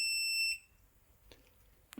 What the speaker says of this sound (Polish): No i działa bo już zasuwa ciągłym, głośnym.